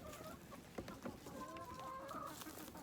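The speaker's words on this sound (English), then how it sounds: "Look at the chickens." Backyard chickens cluck softly at close range, a series of short clucks and drawn-out warbling calls over a few seconds, with no one speaking.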